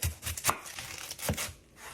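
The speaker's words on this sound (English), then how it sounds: "Okay, so we are chopping up the onion." A knife chopping an onion on a cutting board for ghormeh sabzi, a few sharp, sparse chops at close range with soft rustling between them.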